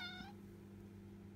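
A domestic cat gives a single short, high meow right at the start, faint and close, followed by quiet room hum.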